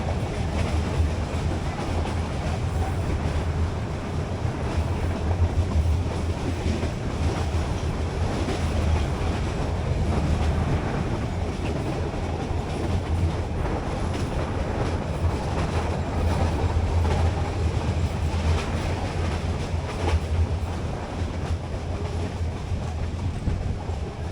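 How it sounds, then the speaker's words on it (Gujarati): A meter gauge train rolls through the Gir forest between Junagadh and Sasan Gir, its steady wheel clatter and low rumble continuous and close throughout, with no voices. "ગીરના જંગલમાં ટ્રેન લગભગ અઢાર કિલોમીટર ચાલે છે"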